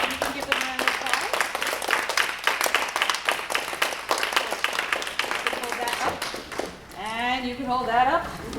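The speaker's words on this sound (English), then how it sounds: "And you can give them a round of applause." Audience applause for third-grade string students at a school recital, steady scattered clapping through most of the clip, with a voice speaking near the end.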